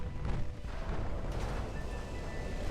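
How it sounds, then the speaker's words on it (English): Torpedoes launch in the naval game Ultimate Admiral: Dreadnoughts, a dense rumbling roar of game effects with booming bursts running throughout, steady and loud. "Torpedoes off."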